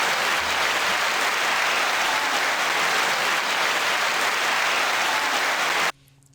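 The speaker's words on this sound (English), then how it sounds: "9-second applause." Dense applause from a large audience fills nearly the whole stretch, steady and loud, then cuts off abruptly near the end.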